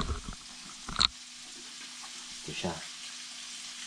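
Garlic frying in a pan for a garlic butter shrimp dish, a faint, soft sizzle running underneath, broken by brief clatters and a short spoken remark.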